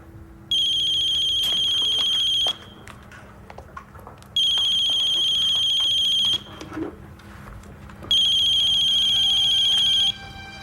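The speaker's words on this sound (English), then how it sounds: "This is Blair Kramer's phone." A telephone rings in three long electronic bursts, each about two seconds, separated by short pauses, loud and close against a quiet indoor background with no talk, in a daytime soap opera scene.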